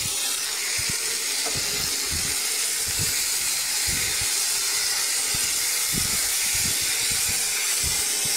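Boiled chickpeas and pumpkin fry in a pan with mustard seed and dried chilli tempering, giving a steady close hiss of sizzling oil dotted with small pops and crackles.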